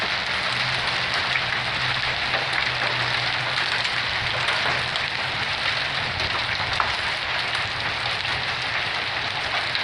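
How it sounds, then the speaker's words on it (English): Spring hail falls steadily on the Rockies Front Range, a dense, even hiss and patter of stones striking surfaces that holds at a constant loud level throughout. "I've been recording for almost the whole time it's been hailing"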